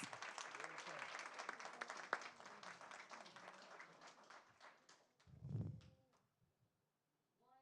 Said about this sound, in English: Let's give her some round of applause.